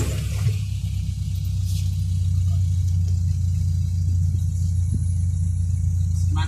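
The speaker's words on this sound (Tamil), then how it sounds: "அட வண்டி வருதுங்க" A car rumbles along Sheikh Zayed Road in Dubai, a loud, steady low engine drone that holds level through the whole stretch with no talk over it.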